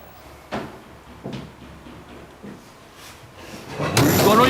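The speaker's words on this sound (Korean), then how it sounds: "문을 닫자마자" A door shuts as someone steps into an adjoining room during a survey experiment: a few soft knocks, then a louder, closer thump with a broadband rush near the end.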